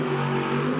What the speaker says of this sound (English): powered by a 500 cubic inch Dart fuel-injected V8 engine